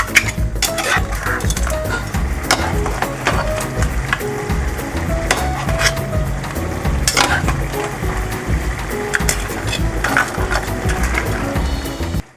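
Shrimp frying in garlic butter in a pan, with steady close sizzling throughout and occasional utensil clinks and stirring scrapes against the cookware.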